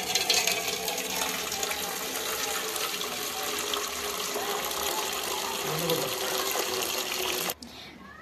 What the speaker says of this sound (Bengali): তো আমার ভাতগুলো ঝরানো হয়ে গেছে